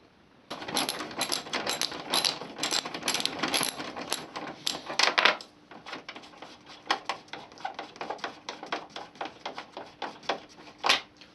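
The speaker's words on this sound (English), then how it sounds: "Remove these 4 T30 Torx screws at the top of the bumper." T30 Torx screws come out of the top of a Volkswagen Passat front bumper. A ratcheting driver clicks in quick, close bursts with short pauses between them.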